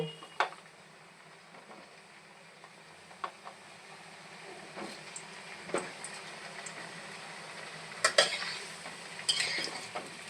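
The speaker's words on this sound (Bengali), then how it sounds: "খুব সুন্দর করে আলুটা লাল লাল করে ভেজে নেব" Potatoes frying in hot oil in a wok for chicken kosha, with a low steady sizzle, scattered clinks and scrapes of a spatula stirring, and a few louder utensil knocks near the end, no talking.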